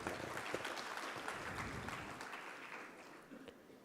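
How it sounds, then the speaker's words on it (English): Round of applause from an audience welcoming a university leader at a hospital event, a steady, moderately distant wash of clapping that fades slightly toward the end. "Ladies and gentlemen, please welcome him with a round of applause,"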